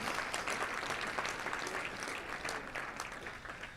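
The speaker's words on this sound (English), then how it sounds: "let's give them a round of applause and all of our great sponsors a round of applause" An audience at a Little Rock Touchdown Club luncheon applauds for its sponsors, a dense, even wash of many hands clapping throughout, heard from some distance and fairly soft.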